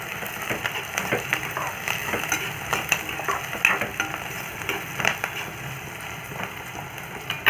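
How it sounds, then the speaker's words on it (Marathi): Chopped onions and slit green chillies sauté in a pan, a low steady sizzle with scattered scraping and stirring clicks from a spoon, fairly quiet and close, without talk. "हे छान परतून घेते कांदा आपला आता थोडा परतला गेला"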